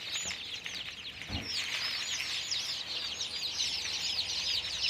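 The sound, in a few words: newly hatched native chicken chicks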